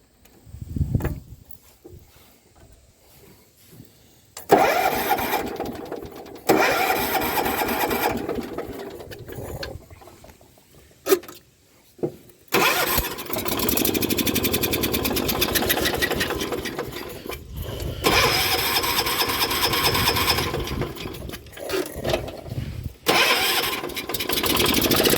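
A 1985 John Deere 212 lawn tractor engine cranks, catches and runs loud and close, with a steady mechanical drone that breaks off and restarts a few times.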